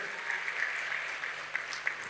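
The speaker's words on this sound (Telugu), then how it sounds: "మీరు ఒక్కసారి చప్పట్లతో మీ తల్లిదండ్రికి గౌరవించండి" Students in an audience at an education talk applaud to honour their parents: steady, moderately distant clapping from a crowd, with a few sharper individual claps standing out.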